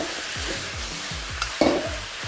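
Chinese celery stir-fries in a hot wok for Hunan chilli beef, a close, steady sizzle broken by rhythmic scraping strokes of a spatula and a sharper clatter near the end, with no talking.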